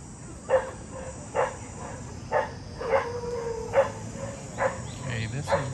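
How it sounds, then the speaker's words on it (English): Several dogs bark in a loose series of sharp, separate yelps, some nearer and some farther, at a hill kennel where skittish dogs are kept, over a steady background hiss. "this is where the skittish dogs are, the ones that like to bark at you"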